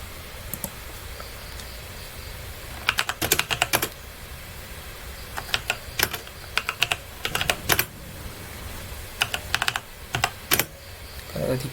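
Fingers type on a computer keyboard in uneven bursts of crisp, close keystrokes, with short pauses between runs and no talking.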